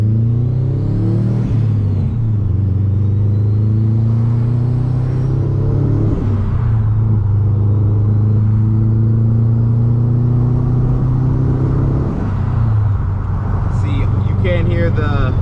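A stock Subaru WRX STI engine with no turbo flutter mod idles with a deep rumble and revs up several times, close and loud, while someone talks over it.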